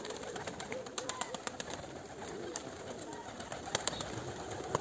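Two-crested pigeons coo softly amid a flock, with faint sharp clicks and light rustling over steady outdoor background noise at a moderate distance.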